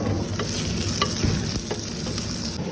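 Onion vadagam and a few curry leaves fry in a pan, a steady close crackling sizzle with light stirring scrapes and taps throughout and no voices.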